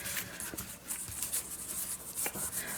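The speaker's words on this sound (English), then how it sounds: "I'm just rubbing it on. I'm not polishing shoes, but I am polishing washi tape right at the moment" Washi tape is rubbed and polished by hand, giving faint, quiet scuffing strokes in an uneven rhythm with small brushing clicks, close and without talk.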